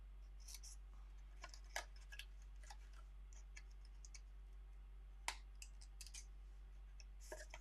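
Scissors snip a small V notch into paper card stock on a craft table, a series of quiet, irregular clicking cuts with one sharper snip, over a steady low hum.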